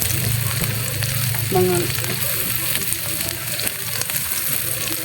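Garlic sautés in a hot pan with a constant crackling sizzle, stirred now and then, and a voice speaks briefly over it.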